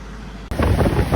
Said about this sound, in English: Look at the speedboat coming in.